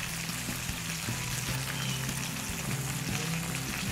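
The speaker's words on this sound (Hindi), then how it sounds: "अब हम इसको फ्राई करें।" Grill chicken frying in a pan gives a steady broadband sizzle with soft bubbling and occasional clicks, continuous and close, with no talk over it.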